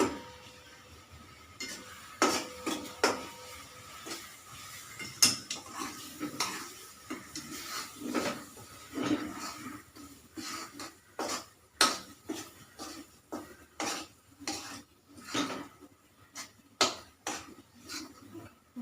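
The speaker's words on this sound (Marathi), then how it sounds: "ते असं इथे परतून घ्यायचं आहे थोडं" Modak stuffing made with betel leaves stirred and sautéed in a pan, with repeated scraping and clinking of a spoon against the metal in an uneven rhythm, close by, over a soft sizzle.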